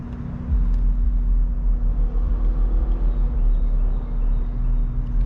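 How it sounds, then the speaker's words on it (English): A car with a loud aftermarket exhaust drives by as a steady, heavy low rumble that swells in after a half second and holds at fairly close range, with no talk. "That dude would quit driving around with his little fart can."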